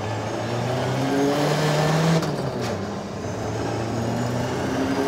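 Rear-wheel-drive car spinning its wheels on a frozen lake in Sweden: a loud, sustained engine drone rising and falling in pitch as the tyres churn, heard up close without pause.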